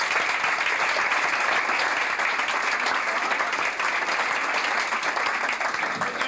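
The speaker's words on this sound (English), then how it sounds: "A big round of applause for Bob Summerby." Sustained applause for comedian Bob Summerby at a comedy club stand-up show, a full room clapping steadily and loudly without a break.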